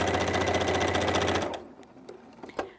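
A quilting sewing machine with a larger throat plate stitches in a rapid, steady run for about a second and a half, then stops, leaving a few faint clicks and taps of handling.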